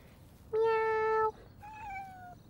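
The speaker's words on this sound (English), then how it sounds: "Meow." A kitten meows twice, a clear, steady high meow followed by a softer, shorter second meow, close and alone.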